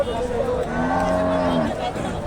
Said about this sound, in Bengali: ফ্রিজিয়াম জাতের গাভী দেখতেছি